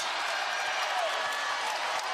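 A college basketball arena crowd at an NCAA game between Florida A&M and Iowa State cheers for the Cyclones in a steady, dense roar, with commentary running faintly underneath.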